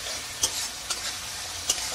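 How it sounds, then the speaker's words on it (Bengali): Soft, steady sizzle of ginger-garlic and green chilli paste frying in a pan, with a few brief louder stirring scrapes, no talking. "এটা দিয়ে অল্প ভাজতে হবে।"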